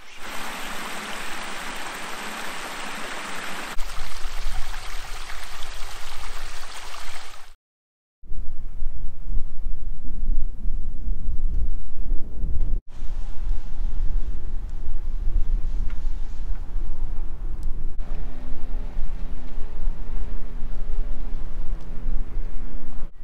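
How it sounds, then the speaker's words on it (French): Steady rushing water of a red-tinged creek on Quebec's Côte-Nord flows throughout, broadband and continuous, with a brief cut partway and a faint tonal hum appearing near the end. "c'est ce qui s'appelle le ruisseau rouge"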